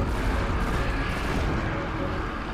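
Enemies shooting in the game Destiny, a dense, loud barrage of booming gunfire and blasts filling the scene steadily from start to end.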